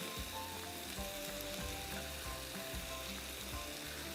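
Onions and a few garlic cloves fry in a hot pan, a loud continuous sizzle with crackling bursts and faint stirring clatter close up, and no one speaks.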